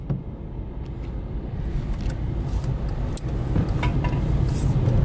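A car spins power donuts on wet ground, its engine roaring in a continuous rumble that grows louder and more intense, with scattered tire and splash noise mixed in.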